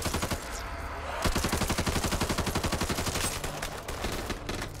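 Rapid automatic gunfire rattles in dense, rhythmic bursts during a Back 4 Blood zombie fight, loud and close, with steady repeated shots through most of the stretch.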